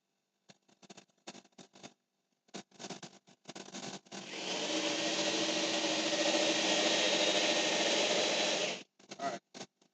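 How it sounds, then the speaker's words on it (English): A pump at a small whiskey distillery, pushing hot liquid through high-temperature hoses, runs with a steady broadband whir and rough grinding for several seconds, framed by short bursts of talk and handling noise before and after. "I was beginning to get some weird sounds coming through the pump"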